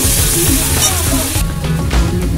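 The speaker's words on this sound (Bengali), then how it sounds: "আদা রসুন পেস্টটা একটু ভালো করে ভেজে নেব" Garlic and ginger paste frying in a pan for aloo dum, giving a loud, steady crackling sizzle close up with small bursts of popping throughout, no talking.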